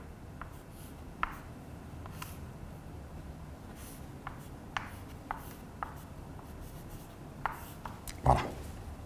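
Chalk or marker strokes writing a maths expression on a classroom board, a run of short, separate taps and scrapes spread through the stretch, with one louder stroke near the end over quiet room tone.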